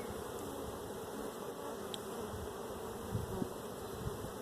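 Honey bees from an opened hive in early spring, after winter feeding, fill the air with a dense, continuous close buzzing hum that stays level throughout, with no voices.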